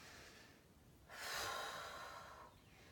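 A single slow, deep breath is drawn in during a COPD breathing exercise, rising softly from quiet and fading again, close and faint, with no one talking.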